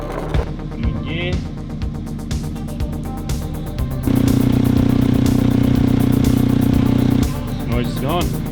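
A repaired all-wheel-drive Daihatsu Mira runs close by, its engine note jumping to a louder, steadier drone midway before dropping back, with a person talking over it throughout.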